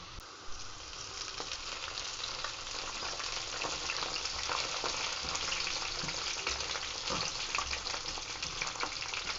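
Gobi pakoda with curry leaves frying in hot oil at a roadside stall, a dense continuous sizzle and crackle that swells slightly louder partway through, with occasional stirring scrapes and no talk.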